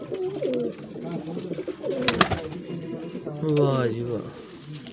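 A Faisalabad pigeon coos in soft, repeated throaty rolls close by, mixed in with a voice speaking over it.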